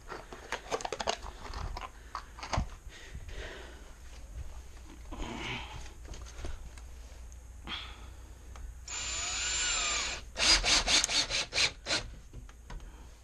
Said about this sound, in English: then we'll drill our holes for our carriage bolts